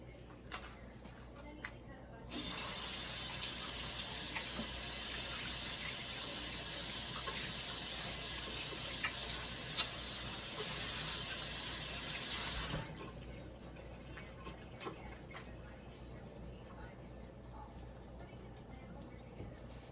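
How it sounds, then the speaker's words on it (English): Kitchen tap water runs steadily into a sink while hands are washed after mixing homemade biscuit dough, a loud continuous hiss for about ten seconds before cutting off. "let me go wash my hands."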